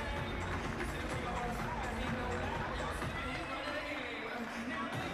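Crowd at an indoor soccer game in Lakeland, a continuous dense hubbub of many voices from a large audience filling the arena, with a commentator's voice and occasional play sounds mixed in.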